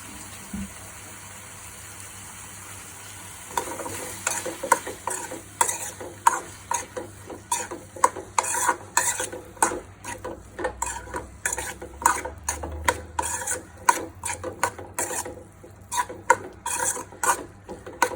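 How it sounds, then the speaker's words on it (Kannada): Broccoli is stir-fried in a pan for noodles, with a steady sizzle beneath repeated scraping and clinking of a utensil against the pan in an uneven rhythm, close and moderately loud, with no talking. "ನಂತರ ನಾನು ಬ್ರಾಕ್ಲಿ ಹಾಕ್ಕೊಳ್ತಿದ್ದೀನಿ."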